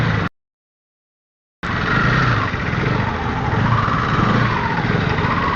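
A KTM Duke 250 Gen 3 motorcycle engine running steadily at idle with a loud, buzzy single-cylinder drone. It starts after a brief dropout and carries on alone without speech.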